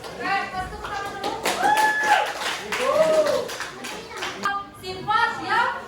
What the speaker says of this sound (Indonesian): Oke, kasih tepuk tangan dulu.